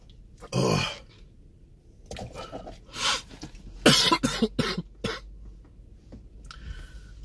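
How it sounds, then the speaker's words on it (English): A person coughs repeatedly, first a single harsh cough, then a cluster of rough, throaty coughs and throat clearing, close to the microphone. "My cough is actually improving"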